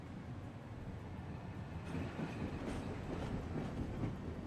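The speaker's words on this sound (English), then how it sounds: "now we have to take the train to the Fist." A train rolls steadily through the video game Afterfall: Insanity, its low rumble and rhythmic clickety-clack of wheels continuous and fairly close, with no talking.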